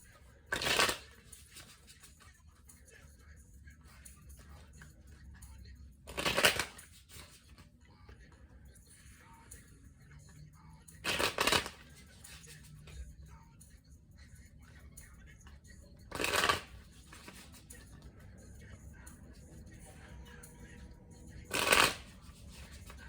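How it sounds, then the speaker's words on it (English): A Classic Tarot deck is riffled in five short bursts, spaced several seconds apart, with quiet room tone in between. "I'm going to go ahead and begin shuffling."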